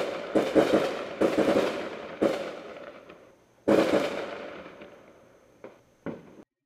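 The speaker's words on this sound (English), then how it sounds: "As I listen to fireworks going off all over town." Fireworks go off all over town: a series of loud booming bursts, each one echoing and rumbling away before the next, with a few sharper cracks near the end.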